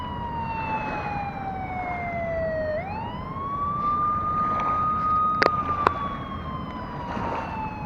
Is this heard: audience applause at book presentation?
no